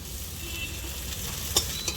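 Prawns frying lightly in a pan give off a steady close hiss of hot oil, with two brief sharp clicks near the end and no speech.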